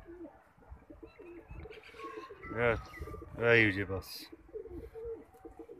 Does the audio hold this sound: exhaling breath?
no